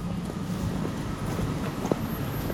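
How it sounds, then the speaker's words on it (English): A tram rolls past near the Tallinn train station in Estonia, heard as a steady, fairly loud low rumble with faint rail clatter and one brief metallic squeal, and no talking. "many trams coming through here"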